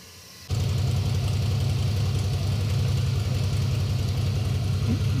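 A Harley-Davidson Milwaukee-Eight 107 engine on a dyno, fitted with a changed air cleaner and muffler, kicks in abruptly after a quiet start and holds a loud, steady, lumpy idle-like throb to the end.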